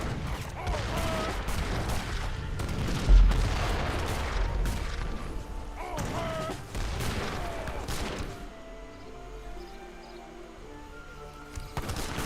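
Grenade launchers fire in a game of Age of Empires 3, with repeated booming blasts and crackling gunfire over a steady battle din, with talk mixed in at times.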